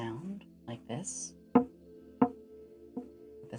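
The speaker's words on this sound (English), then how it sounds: "with the side of the bowl being hit" A wooden spoon or similar object knocks against the side of a bowl in a few sharp, hollow taps spaced about half a second apart, close and intimate, with soft spoken voice between them.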